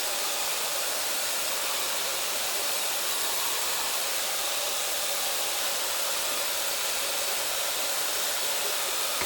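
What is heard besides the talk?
Sharper Image Revel hair dryer blow drying hair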